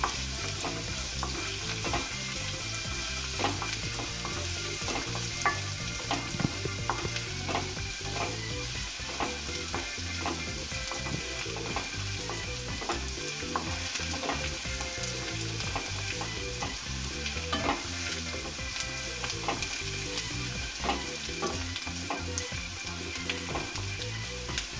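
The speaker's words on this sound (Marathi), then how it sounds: "आणि कांदा। हे चांगलं लाल होईपर्यंत आपल्याला फ्राय करून घ्यायचं।" Chopped onions sizzling in a pan for a Maharashtrian spinach stir-fry, a steady close crackle and hiss with repeated scrapes and knocks of the stirring spoon, continuous and unbroken by any voice.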